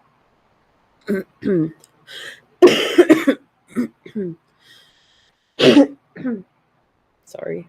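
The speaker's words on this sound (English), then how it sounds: "Every time I go outside, I start coughing like crazy" Several harsh, close coughs and throat clearings in short bursts, with a brief spoken word between them.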